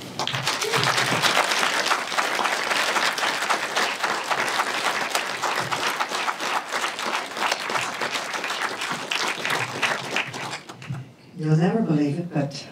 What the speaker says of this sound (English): I'd like us to put our hands together